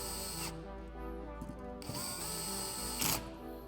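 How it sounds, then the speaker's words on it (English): Screws being driven into a Griffin Precision scope mount with a tool, a close mechanical whir in short bursts separated by brief pauses, fairly quiet and without talk. "So we're going to go ahead and drive some screws."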